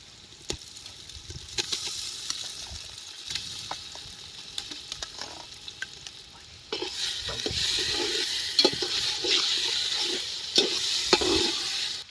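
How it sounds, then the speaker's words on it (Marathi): Ground spice masala fries in oil in a pot over an outdoor wood-fired stove in a farm field, with a steady sizzle under occasional stirring clinks that grows louder and denser partway through. "असा जो तेलात मसाला सगळा चांगला भाजून घ्यायचा."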